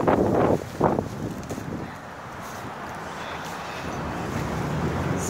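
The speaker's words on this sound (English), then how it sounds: "It's beautiful out here, but it's windy." Wind outdoors buffets the microphone in strong gusts at first, then settles into a steady rushing roar.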